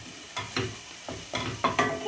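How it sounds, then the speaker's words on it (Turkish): Tomato paste stirred in a pan for a bbroad bean dish, with five or six scraping strokes of a spoon in an uneven rhythm over a soft frying sizzle, close and fairly clear with no talking. "Şöyle salçamızı biraz bir iki tur çevirelim."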